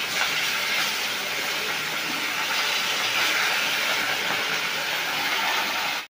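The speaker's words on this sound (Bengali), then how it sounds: "মাছের নিচের পিঠটা ভাজা হয়ে গেছে, এখন আমি মাছটা উল্টে আরেক পিঠ ভেজে নেব।" Pieces of catla fish fry in hot oil in a pan, giving a loud, constant crackling sizzle that holds steady throughout and then cuts off abruptly at the end.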